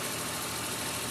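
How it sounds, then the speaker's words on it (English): Suzuki Mighty Boy three-cylinder engine idling smoothly, a faint, even low hum heard briefly and alone. "this one here, as you can see, it idles really smooth."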